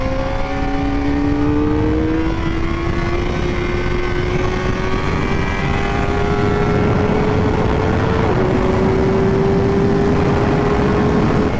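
A Kawasaki Ninja ZX-4RR 400cc motorcycle screams at high revs on a racetrack, its loud, close engine pitch climbing steadily, with a quick upshift partway through before the whine continues rising.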